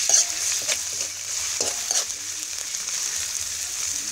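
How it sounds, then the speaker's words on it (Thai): Chili stir-fries in hot vegetable oil in a pot for a spicy fish dish, with a steady close sizzle and intermittent scraping clacks of a utensil stirring. "พอหม้อมันร้อนนะครับก็ใส่พริกลงไปผัดเลยครับ"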